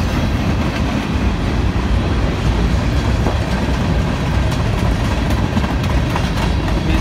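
A freight train rolls past on the track on a cold, windy day, a steady loud rumble of wheels and cars with faint clickety-clack, filling the whole stretch without a break and with no talking.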